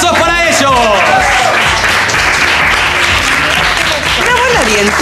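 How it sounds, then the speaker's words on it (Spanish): Studio audience applause on a TV show for a couple of contestants, loud and continuous clapping throughout, with voices calling out and cheering over it. "aplausos para ellos"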